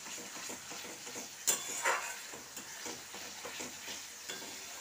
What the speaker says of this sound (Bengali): যতক্ষণ না তেল ছাড়ে এরকমভাবে নাড়তে হবে